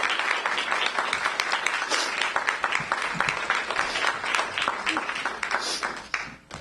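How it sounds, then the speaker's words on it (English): An audience at a Poetry Out Loud county championship applauds, a dense, sustained clatter of many hands that fades toward the end, with some voices mixed in. "Please give them a round of applause."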